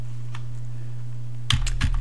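Keys tapped on a computer keyboard while editing a config file in a text editor: a lone faint keystroke, a pause, then a quick cluster of a few sharper clicks over a steady low electrical hum.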